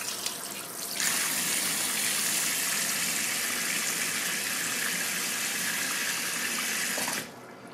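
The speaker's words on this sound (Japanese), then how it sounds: "手も洗い、砥石も洗い" Steady tap water runs for several seconds, washing hands and a whetstone used for sharpening an ear-hair razor, a continuous close hiss that starts abruptly and stops near the end.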